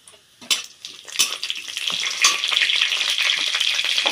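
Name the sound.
dried red chilies and panch phoron tempering in hot mustard oil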